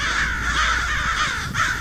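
A crow caws as a sound effect in a horror story narration, giving a loud, harsh, drawn-out call, then a short gap and the start of another caw.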